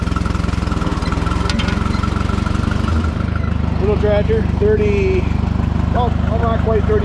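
A small Farmall M602 tractor engine idles with a constant chugging rumble, close and loud, while someone talks over it in the second half.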